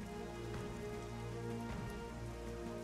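Rain in the war strategy game Strategic Mind, a steady, soft, even patter of drops on surfaces that continues without a break.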